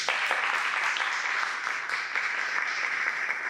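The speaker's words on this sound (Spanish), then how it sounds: "Sin más que añadir, damos paso y pido un aplauso a Nicolás Barrientos, por favor." Steady applause from an audience at a panel discussion event, continuous dense clapping at an even level for a few seconds with no voices.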